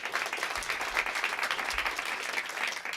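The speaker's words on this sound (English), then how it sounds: "Please clap for them. They deserve your applause." An audience claps for a band at a Bing Lounge session, a dense, steady burst of applause that holds evenly for a few seconds.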